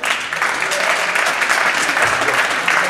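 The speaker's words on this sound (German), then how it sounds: "Für einen wirklich tollen Kampf nochmal Ihren Applaus." Spectators at a boxing fight in Hilden give loud, sustained applause, a dense crowd clapping steadily for the whole stretch.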